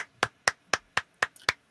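Seven sharp, evenly spaced hand claps from a single person, close and distinct, with quiet gaps between them and no talking.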